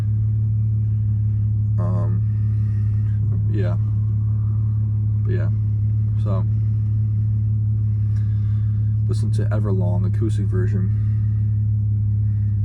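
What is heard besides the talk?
car interior rumble while driving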